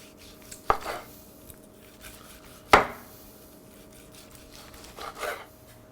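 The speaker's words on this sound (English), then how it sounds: "So we're just gonna cut this super thin here." A knife cuts smoked tri-tip into very thin slices on a board, giving three separate scraping, knocking strokes spaced a couple of seconds apart, close but fairly soft.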